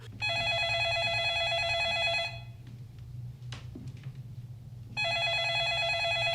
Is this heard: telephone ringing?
yes